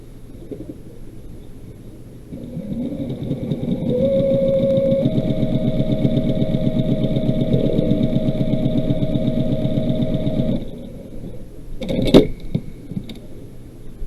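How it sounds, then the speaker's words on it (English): A sewing machine stitches quilt fabric for a cat quilt block, running in a steady mechanical whir for about eight seconds and then stopping. A brief clatter of handling follows. "I'm going to sew right here so that this edge meets."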